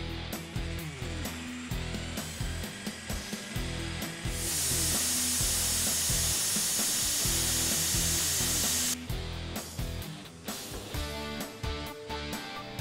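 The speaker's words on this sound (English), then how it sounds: "In order to cut out the sides, I'm going to use a jigsaw" A jigsaw cuts arcade cabinet side panels along a guide bar, with steady rattling buzz interrupted by brief stops and restarts and a stretch of sustained louder whine in the middle, close and dominant throughout.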